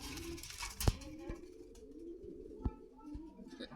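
Danish pigeons at a Dhaka market, with soft cooing and a few sharp bird calls or flutters over a muffled crowd murmur, fairly faint and distant.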